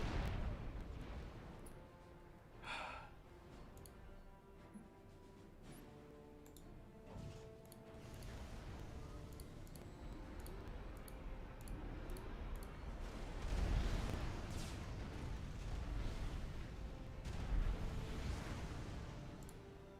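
Artillery bombardment in the real-time strategy game Supreme Commander, a steady rumble of distant booms and scattered impacts that swells toward the end, with heavier blasts around the middle and late stretch.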